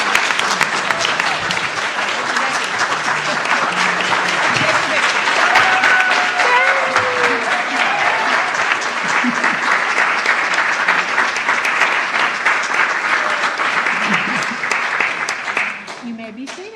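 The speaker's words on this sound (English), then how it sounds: "Let's give them one more round of applause." Church congregation at a Sunday service applauds at length, a loud, steady roar of many clapping hands with occasional voices and cheers, fading out near the end.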